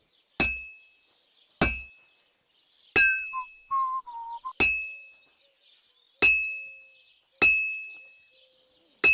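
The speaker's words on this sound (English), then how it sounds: "right before you lift the hammer, you can see where it's going to drop by where it is on the anvil" In Kingdom Come: Deliverance 2, a hammer strikes a horseshoe on an anvil: six loud, ringing metallic clangs at roughly even intervals, with a short run of softer metallic scraping and tones between the third and fourth blows.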